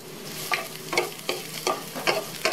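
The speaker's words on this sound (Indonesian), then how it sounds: "Oke, minyaknya sudah panas. Selanjutnya bawang bombaynya kita tumis duluan." Onion being sautéed in hot oil in a home kitchen, heard as a steady close sizzle with repeated sharp scraping stir strokes about every half second.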